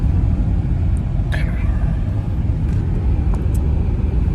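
A car is being driven on a mild day, heard from inside as a steady low road rumble. Faint clicks come and go above it and no one talks.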